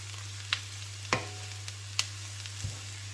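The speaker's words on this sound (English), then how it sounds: "and also the grated carrot. Okay, just give that a stir." Grated carrot mixture for a gluten-free vegan nut roast being stirred in a pan over medium heat: a few distinct scraping clicks of a utensil over a faint sizzle and low steady hum, with no talking.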